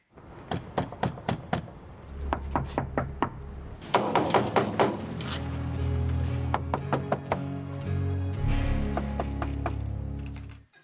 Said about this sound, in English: This is a clip of all the door knocks on the show put together.